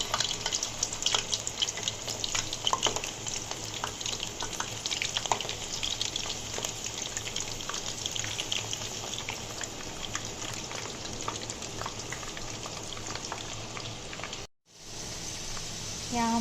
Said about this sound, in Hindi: यहाँ हमारी पोटैटो चिप्स बहुत अच्छी तरह फ्राई हो रही हैं।